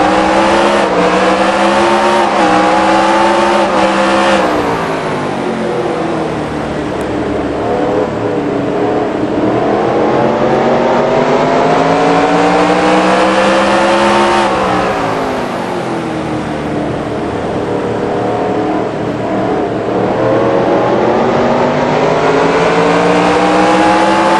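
Race car engines roar and rev hard at the green flag start of an NR2003 video game race at Martinsville Speedway, a loud, sustained, close engine note with rising and falling gear shifts and no voices.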